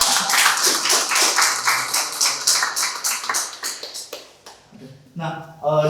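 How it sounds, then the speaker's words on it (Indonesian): Studio audience clapping in a dense, steady burst for about four seconds before it fades out, and a voice then speaks over the end. "tepuk tangan dong"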